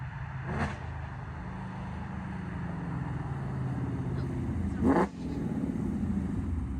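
A Ford Mustang GT fitted with longtube headers idles with a loud, rough burble, punctuated by two sharp revs or pops, one early and one near the end, with voices faintly talking underneath.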